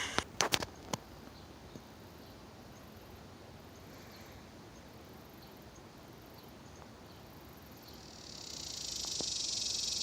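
A cicada in the woods in early June starts up a high, steady buzzing drone that swells in the last seconds, after a few faint clicks and quiet forest ambience.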